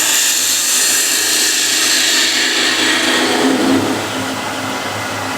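Skew chisel shaving a wooden workpiece spinning on a lathe, a loud continuous hissing cut over the motor's steady hum.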